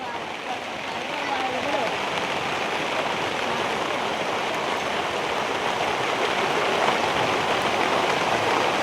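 Heavy unseasonal monsoon rain pours steadily on open farmland in the Konkan, with fast-flowing runoff water rushing alongside, a dense continuous roar that stays loud and unbroken throughout.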